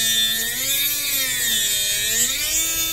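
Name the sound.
power drill drilling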